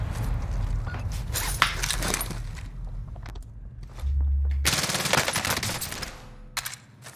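Gunfire in Call of Duty Warzone during a solo battle royale match, with rapid bursts of automatic shots and scattered impacts that come and go over several seconds, mixed with footsteps and game effects.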